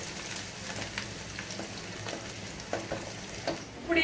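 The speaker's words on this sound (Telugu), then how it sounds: "ఇవన్నీ ఏపుకోవడానికి కళాయి పెట్టానురా" Ingredients fry in a kadai for gongura pulihora, a soft, steady crackle and sizzle with scattered pops, fairly faint and close, no voices.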